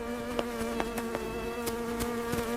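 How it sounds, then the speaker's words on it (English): A bee buzzes around a melting ice cream cone in a park, a close, steady droning hum with a few sharp clicks and flicks as it hovers, alone without voices. "A bee wants your ice cream."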